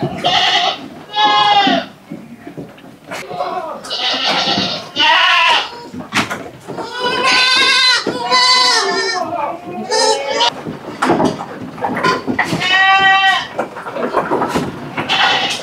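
Goats bleating repeatedly on a goat farm, several loud overlapping calls close by, with a voice also present in the mix.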